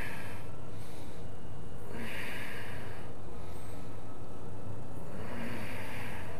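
Slow, deep breaths during a seated yoga twist, each long inhale and exhale rising and fading close to the mic over a steady background hiss.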